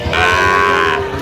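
A cow lows at a busy cattle market in Rajshahi, one long, loud, steady moo lasting about a second with low market noise around it.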